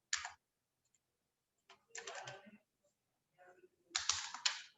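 A command typed on a computer keyboard, a few short clusters of close keystroke clicks separated by silent pauses, ending in a longer run of taps.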